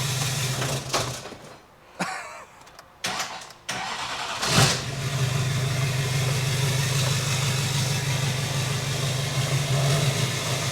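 A Jeep Wrangler with a swapped-in 6.6 Duramax diesel engine runs close by, with a few choppy bursts and pauses early on before settling into a steady, loud low rumble as it moves off.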